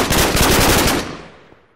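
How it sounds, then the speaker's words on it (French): Rapid automatic fire from a P90 in the Minecraft Modern Weapon Pack mod: a loud, fast, continuous burst of gunshots for about a second, then a decaying echo tail. "Puis alors le P90 c'est une arme qui tire super rapidement."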